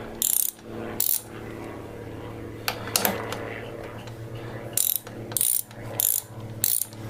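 A ratchet socket wrench loosens an e-bike crank bolt in short bursts of rapid clicking, a few quick pulls near the start and a cluster near the end, close and sharp, with quieter handling noises between.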